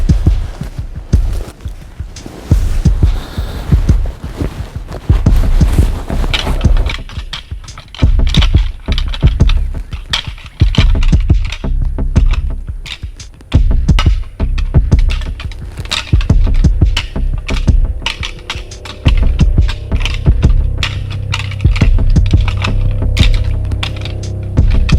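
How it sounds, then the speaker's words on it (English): Deer antlers rattled together during a hunt to lure deer toward a concealed blind: repeated sharp clacks and cracks in irregular bursts, fairly close and loud, with no talk. "The clamor of clacking antlers"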